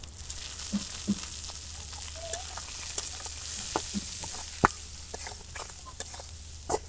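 Prawns fry in a pan with turmeric, chili powder and salt, giving a steady close sizzle with scattered crackles and pops and a few light stirring knocks.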